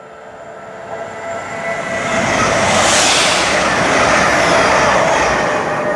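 Class 800 train 800 014 runs on diesel on the Great Western Main Line at Twyford, swelling into a loud close roar with rumbling wheels as it passes, then holding steady.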